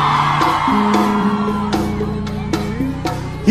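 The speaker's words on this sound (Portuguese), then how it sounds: "Cadê o gritinho das damas?" Women in a large crowd at a live outdoor concert at Planeta Atlântida 2017, whooping and screaming loudly over amplified music with a heavy pulsing beat.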